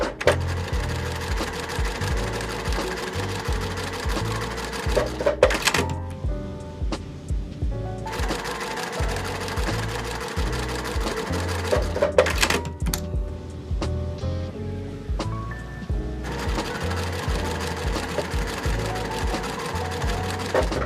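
Sewing machine stitching quilt pieces together for half-square triangle and flying geese blocks, running in steady bursts with short pauses between seams, close and alone without talk.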